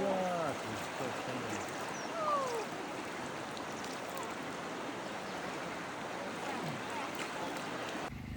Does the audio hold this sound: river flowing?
yes